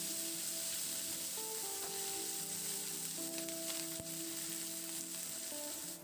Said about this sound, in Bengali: এবার পেঁয়াজটা দিয়ে নাড়াচাড়া করে পেঁয়াজটাকে হালকা করে একটু ভেজে নেব।